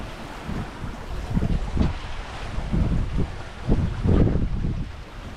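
A sailboat under sail at six knots heading into the Port-Évêque gulf entrance, with wind buffeting the microphone and water rushing along the hull in surging pulses, loud and close, with no talk.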